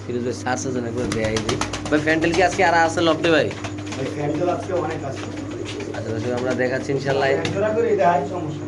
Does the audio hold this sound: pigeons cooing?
yes